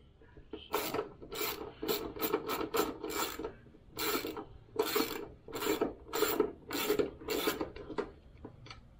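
A ratchet loosens 10 mm bolts on a bracket of a Honda Goldwing motorcycle, giving a close series of rasping clicks in repeated bursts with short pauses between strokes, and no talking.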